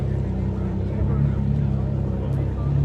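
A V12 car engine at the Amelia Island car show, a steady deep rumbling drone held close and loud for several seconds while people talk over it.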